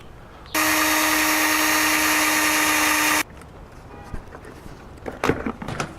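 A power drill whirs loudly and steadily for about three seconds, then stops, followed by faint handling clicks and clatter nearby, during a cold air intake install on a 2009 Jeep Wrangler Unlimited.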